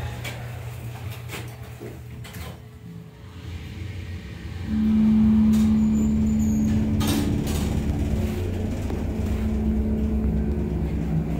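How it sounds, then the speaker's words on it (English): A Montgomery Kone hydraulic elevator motor in a shopping plaza in Braintree, Massachusetts, starts up midway with a low, steady hum and drone, running continuously beneath faint background noise. "let's listen to the motor"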